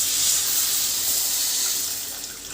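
Water pours steadily into a pot of chepankizhangu (taro root) and dried fish curry, a continuous close hiss and splash that tapers slightly toward the end.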